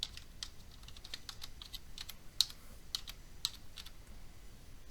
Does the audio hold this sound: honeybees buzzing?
no